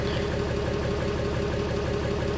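Cummins diesel engine idling as it warms up toward operating temperature, with a steady, close, loud rumble and a faint knocking pulse running through it, and no voices.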